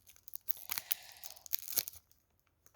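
A package of trading cards is torn open up close, with sharp crinkly rips and crunches in a couple of bursts before falling quiet.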